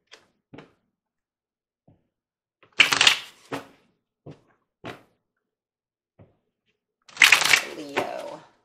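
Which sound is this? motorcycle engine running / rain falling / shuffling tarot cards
shuffling tarot cards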